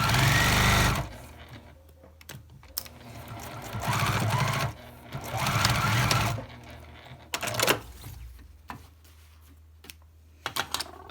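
A sewing machine stitches a plastic-lined makeup bag with a zipper in several bursts of rapid mechanical stitching, close and fairly loud, with pauses and small clicks between runs.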